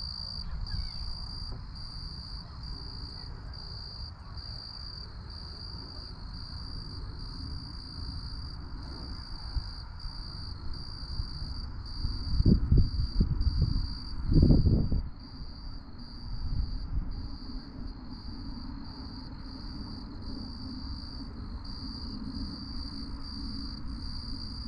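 Crickets chirp in a steady, high-pitched pulsing chorus throughout, with a few low thumps and rustles near the middle.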